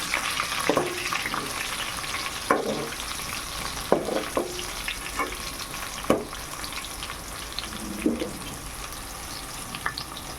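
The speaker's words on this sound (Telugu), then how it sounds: "మళ్ళీ కొంచెం స్టార్ ఫ్లవర్ అండ్ ఇలాచి మళ్ళీ యాడ్ చేస్తున్నా." Whole star anise and cardamom pods fry in hot oil for an egg dum biryani, a steady soft sizzle broken by several clinks and scrapes of a spoon stirring the pan, no voices.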